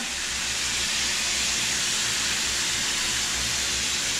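A steady, loud hissing bubble of kare-kare sauce boiling and steaming in a pot, continuous and close.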